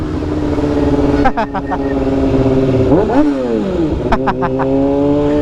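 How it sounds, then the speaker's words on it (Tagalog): Cars and motorcycles pass along a street in Lucao, Pangasinan: a continuous loud engine drone with rising and falling revs from passing vehicles, plus short horn-like blasts near the middle and end. "Traffic, sir."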